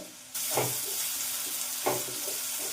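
Garlic, ginger and chopped onion frying in hot oil for hotel-style fried rice: a steady bright sizzle close by, with a couple of stirring scrapes and shuffles in the pan.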